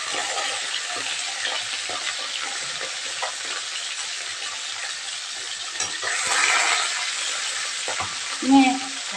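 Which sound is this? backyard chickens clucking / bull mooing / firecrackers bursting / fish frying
fish frying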